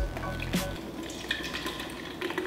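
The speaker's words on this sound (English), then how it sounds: "I'm gonna mix all four of these drinks into this bucket" Several mixed drinks poured together into a bucket, a close liquid splash and gurgle at the start followed by lighter trickling and dripping for the rest.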